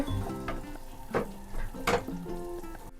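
Masala with salt stirred in a pan for homestyle pav bhaji, giving a soft frying sizzle under a few distinct scraping strokes of a spoon, close and moderately quiet.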